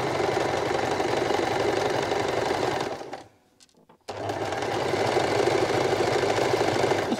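A household sewing machine runs steadily and loudly, stops briefly for about a second, then starts again at the same even, buzzing pace.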